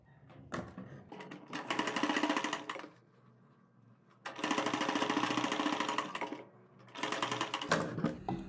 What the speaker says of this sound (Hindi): अब हम क्या करेंगे, पाइपिंग के बराबर बराबर सिलाई लगाएंगे।